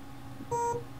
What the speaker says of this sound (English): you should be able to stop the beeping at least